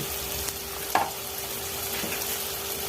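Onion and tomato with chili powder sautéing in a pan, a steady soft sizzle with a brief scrape of stirring.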